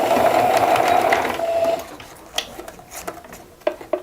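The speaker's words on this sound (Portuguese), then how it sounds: "E a gente vai aqui, ó, costurar ao redor." A sewing machine stitches around the edge of fabric with a zipper foot at 3.5 stitch length, running steadily and close for about two seconds before stopping, followed by light handling clicks and taps.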